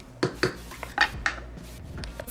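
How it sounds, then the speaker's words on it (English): A spoon clinks and scrapes inside a pot of Albanian bean soup (grosh), a few separate knocks spread across a couple of seconds, close and moderately loud with no talking. "just gonna give it a quick little stir"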